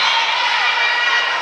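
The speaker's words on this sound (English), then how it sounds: "Got both sides cheering their heads off." High school volleyball crowd cheering loudly during a Davison versus Carman Ainsworth game, a dense, sustained roar of voices filling the gym throughout.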